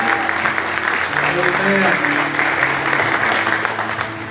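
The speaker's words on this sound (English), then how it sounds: "Let's give our first-time guests a hand clap of praise." A church congregation claps for first-time guests, brisk applause filling the sanctuary while a voice speaks briefly over it before the clapping begins to thin.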